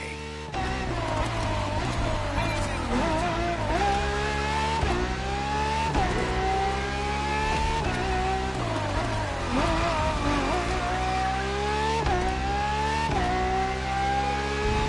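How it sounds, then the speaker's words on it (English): A Ferrari FXX K supercar races in the Crew Motorfest video game. Its engine screams loud and close, rising sharply through rapid gear changes with quick dips between shifts and occasional tire squeal. "For this second lap, you'll be driving the FXXK."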